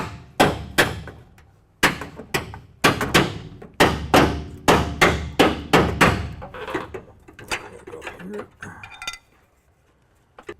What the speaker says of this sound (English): I'm using a big, heavy hammer. I've got a 4-pound sledge